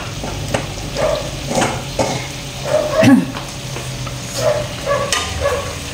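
Adobo is stirred in a frying pan with a soft sizzle and repeated scraping, clinking strokes of a utensil against the pan at a steady pace, with a brief voice in the background.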